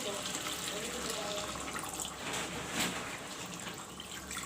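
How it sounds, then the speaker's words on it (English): Water poured into a cooking pot of chicken curry with cut tomatoes, a steady close gushing stream lasting several seconds, nearly alone. "Add some water."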